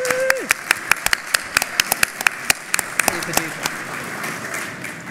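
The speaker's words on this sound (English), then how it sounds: "So just a big round of applause for all of our speakers." Conference audience giving a round of applause at the closing session: a thin, scattered patter of individual claps, irregular and spaced apart, over a faint room background.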